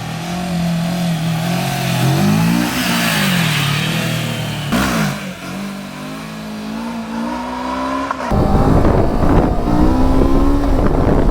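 A Kawasaki motorcycle engine revs hard during a wheelie, its pitch swinging up and down with the throttle under buffeting wind noise, then jumping to a louder, rougher roar near the end.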